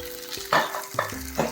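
Brinjal and ginger curry frying in a pan, with soft sizzling and a few brief stirring clatters, close up, mixed with low tonal hums and no speech.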